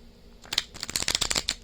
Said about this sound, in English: so shuffle one more time